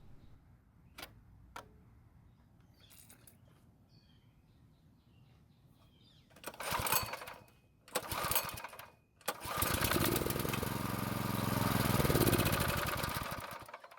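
Old neglected tiller engine after long disuse: quiet ticking and handling noises, then two short bursts as it fires and dies, then a louder sustained running stretch of a few seconds that swells before fading.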